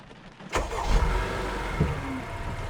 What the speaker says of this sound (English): I stepped on the acceleration and kept going